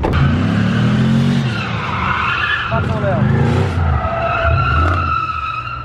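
A Chevrolet Camaro drifts in Camboriú, its tires squealing in long, loud skids over a deep engine roar, while people talk and laugh close by throughout.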